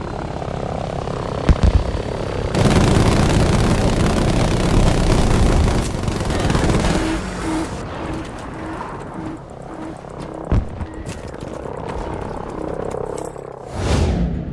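A warplane's droning engine in Battlefield V, with bursts of rapid machine-gun fire over dense, loud noise, easing into a quieter engine hum broken by sharp isolated shots.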